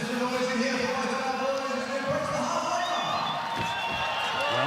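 A boxing arena crowd roars and cheers during a professional bout, a dense continuous wall of voices with whoops and rising swells, heavy throughout with no gaps.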